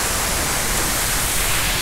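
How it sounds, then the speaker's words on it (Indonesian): Timponan waterfall pours in a constant, dense roar of falling water, broadband and loud, with no change in level or rhythm and no voices. "Dan pas di depan saya ini adalah air terjunnya."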